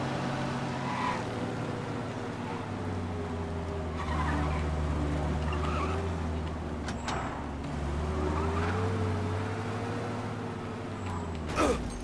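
A car in the Mafia Definitive Edition video game drives with a steady engine drone, occasional tire squeals and brief knocks, and no talking.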